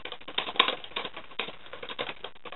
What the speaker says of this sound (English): the keyboard is very well spaced and a lot easier to type on.